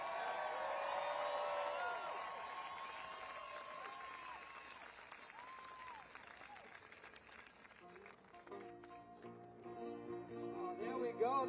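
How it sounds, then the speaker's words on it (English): A crowd applauds at a Washington DC protest, broad sustained clapping that gradually fades, with a voice speaking over it and amplified sound entering near the end. "a big round of applause for all the people who worked so hard in putting all this together"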